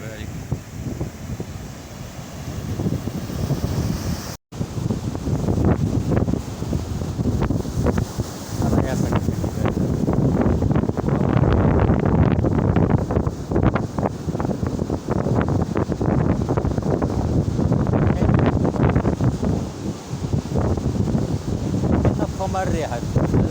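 Strong wind buffets the microphone on a sea shore by a fishing spot, a loud continuous roar with gusty rumble and surf noise beneath, with someone speaking briefly.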